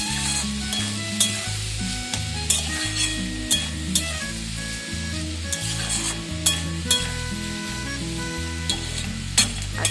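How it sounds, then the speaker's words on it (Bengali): Food with ground black pepper being stirred and mixed in a frying pan: steady sizzling under rhythmic scraping strokes of a spoon against the pan, about one every half second, close with no talk. "একটু নাড়াচাড়া করে ভালো করে মিশিয়ে নিলাম।"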